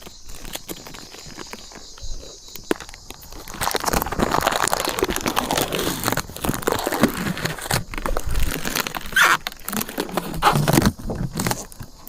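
Plastic protective wrapping being slowly peeled off a Dacia Spring car, crinkling and rustling up close in irregular bursts, growing busier midway, with sharp rustles and crackles throughout.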